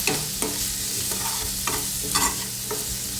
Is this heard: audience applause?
no